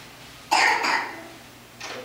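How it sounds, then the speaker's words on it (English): A young child gives one strong, close cough, followed after a short pause by a second, softer cough in a quiet indoor room. "Cough, cough."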